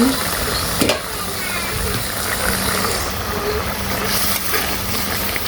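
Fish and potatoes fry in a pan, a loud, constant crackling sizzle close up with a brief clatter near the start.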